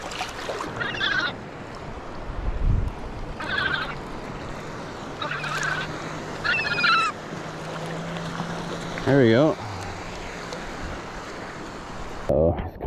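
A seagull calls several times at a shore fishing spot, repeated squawking cries over steady outdoor noise, with someone talking briefly.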